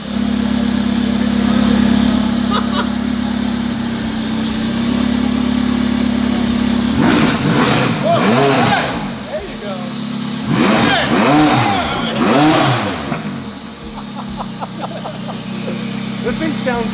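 A McLaren 12C GT3 with a widebody carbon body and straight pipe exhaust idles, then barks through several sharp, loud revs in quick bursts, with people talking and reacting over the engine.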